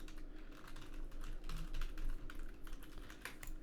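Rapid typing on a computer keyboard while entering text into a search bar, a quiet, steady run of light key clicks with no talking.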